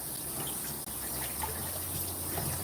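Water runs steadily from a tap while a dog is rinsed after grooming, a soft continuous gushing splash at close range with one brief dip, and no talk over it.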